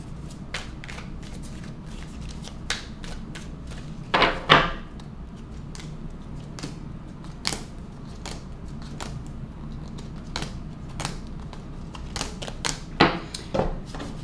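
Tarot cards being shuffled by hand, with a steady run of soft card riffles and flicks plus a couple of louder bursts of shuffling, close and clear with no talking.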